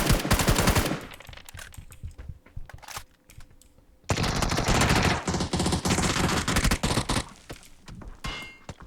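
Automatic gunfire in the PUBG video game, a loud rapid burst at the start, a quieter gap, then long sustained sprays of shots with metallic clangs.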